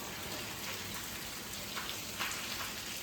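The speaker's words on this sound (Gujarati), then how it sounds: "અત્યારે જો કેટલો ધોધમાર વરસાદ આવે છે, તમે જોઈ શકો છો" Heavy rain pouring down during a storm, a dense, even hiss of drops on surfaces with no break and no voices.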